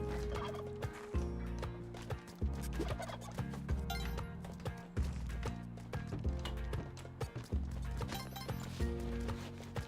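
Turkeys gobbling in the video game Spelunky 2, repeated bursts of gobbles layered over steady, busy game music with rhythmic thumping across the whole stretch, no voices.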